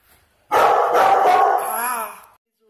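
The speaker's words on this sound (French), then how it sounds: "mon chien a aboyé" A dog barks at home in a loud, close, drawn-out burst lasting nearly two seconds, with whining, yelping tones, then stops into silence.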